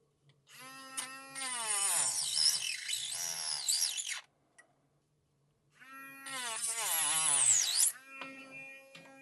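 A small 4V USB-C cordless rotary tool with a cutting blade slices through PVC pipe in two loud, high-pitched whining bursts separated by a short pause, the pitch rising and bending as it bites into the plastic.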